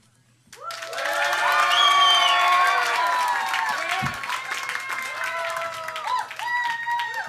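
A live concert crowd cheers and applauds loudly, with many voices shouting and whooping over a steady bed of clapping, swelling quickly and staying strong, then dipping and rising again toward the end.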